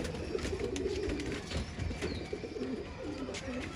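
Desi pigeons coo in soft, low repeated phrases close by, with voices chatting in the background.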